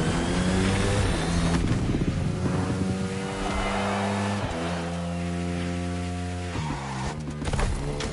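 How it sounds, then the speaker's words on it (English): A motorbike engine in The Crew Motorfest video game revs hard and changes pitch repeatedly as it shifts gears on turns and straights, loud and continuous with a rushing wind-like backdrop. "Lean your bike into the turns and let it rip on the straights."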